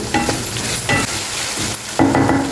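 Chopped onions and green chilies frying in a pan for a sweet bitter gourd curry, giving a loud, close hiss with a few sharper bursts as they are turned.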